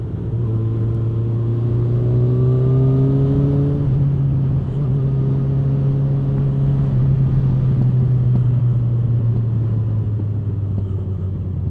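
Motorcycle engine revving hard through its exhaust, a loud, continuous close-up growl whose pitch climbs in rising sweeps and then holds at a steady high drone.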